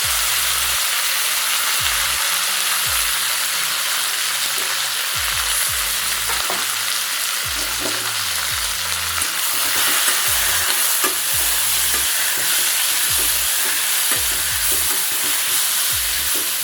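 Mint leaves sautéing in a pan, a steady loud sizzle with frequent scraping stir strokes throughout, no voices.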